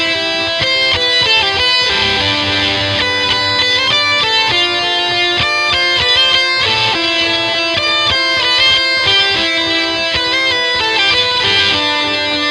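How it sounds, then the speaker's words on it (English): Guitar solo on electric guitar through heavy distortion with whammy pitch shifting and delay: a dense, sustained wall of fast notes with echoing repeats, loud and continuous throughout. "we're on the prime distortion with whammy and delay"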